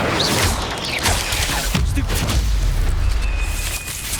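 Incendio, a fire spell, is cast during combat in the video game Hogwarts Legacy, a loud, dense burst of booming, crackling blasts with a rumbling low end and a thin whistling tone near the end.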